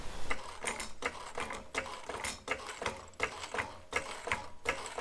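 A car jack ratchets in a steady series of sharp mechanical clicks as it lifts the body of a GU Patrol off the axle, close and fairly quiet, with no speech.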